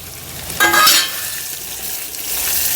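Three tomatoes dropped into hot oil for a traditional Gujarati vegetable dish hiss in a short, bright burst of sizzling that quickly settles into a soft, steady frying hiss.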